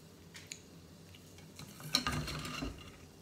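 Tofu being turned in a frying pan over a low flame, a quiet sizzle broken by utensil scrapes and clinks against the pan, growing busier toward the end, with no talking.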